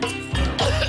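A man coughs twice in quick succession, close and fairly loud, harsh throaty bursts with no speech.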